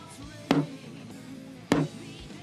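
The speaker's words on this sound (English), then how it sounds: "it has a very muffled, sort of dead, dry sound" A drum with a heavily muffled, dead, dry head is struck twice, about a second apart, each hit a short thud with almost no ring, over faint room noise.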